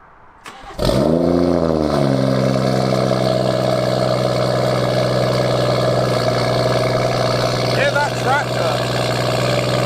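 A BMW M140i straight-six engine cold-starts, flaring in a loud rev before settling into a steady, throaty high idle that drones on close by.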